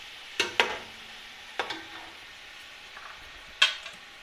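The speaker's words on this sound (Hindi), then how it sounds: "अभी हम इसमें टमाटर डालने लगे हैं।" Tomatoes go into a pan of oil with fried garlic, ginger and onion for chicken pulao, giving a soft sizzle with a few sharp clinks of a spoon against the pan, close up.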